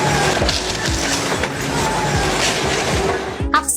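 A tank drives over an illegally parked car in Lithuania, a loud continuous grinding rumble with repeated crunching and metallic crushing impacts ending in a sharp clatter, heard over faint background voices.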